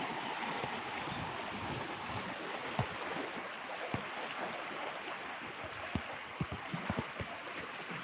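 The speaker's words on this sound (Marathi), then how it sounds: "बघा पाणी कसं वा पळतंय" Water flows quietly in a low, continuous rush, with a few small splashes and ticks scattered through.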